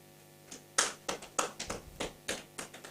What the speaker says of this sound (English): Yes, more round of applause, please.